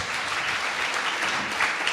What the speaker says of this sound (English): An applause, please, for our speakers.